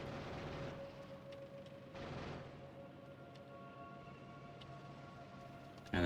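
Grenades going off in the factory-building game Factorio: a couple of muffled, fairly faint blasts rise over a steady low in-game rumble and hum, with no voices.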